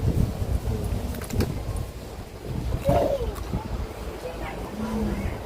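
Wind blows steadily before rain under a darkening sky, as a constant rough rumble and rush close to the microphone, with a bird briefly cooing and muffled voices in the background.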